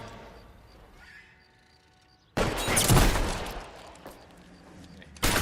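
Shotgun blasts in the video game L.A. Noire during a bank standoff: a quiet stretch, then a sudden loud burst of dense gunfire noise that lingers and decays, with a second sharp blast right at the end.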